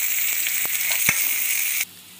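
Onions frying in a teaspoon of oil with cumin seeds and a couple of pinches of asafoetida over medium heat, a loud, close, steady sizzle with a few faint knocks before it suddenly drops away.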